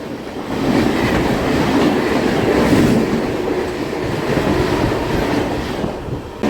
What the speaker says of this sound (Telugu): వన్ 2510 గౌహతి నుంచి బెంగళూరు వెళ్ళే సూపర్ ఫాస్ట్.